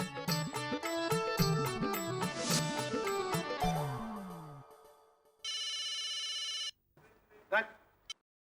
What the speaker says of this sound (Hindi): मैंने ये बताने के लिए फोन किया है कि वर्मा जी का फोन आके गया।